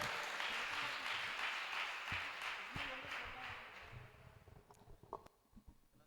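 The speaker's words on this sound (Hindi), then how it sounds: "एक बार जोरदार तालियां महेश डांगरा के लिए" Audience applause for Mahesh Dangra at an admission festival and alumni gathering at Shri Rishikul Brahmacharya Ashram in Churu: dense clapping from a crowd that holds steady, then thins to scattered claps and faint murmurs.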